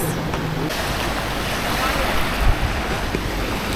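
Ocean surf with strong currents washes steadily at a beach in Hilo, a continuous broadband roar of waves with wind buffeting the microphone, no voices.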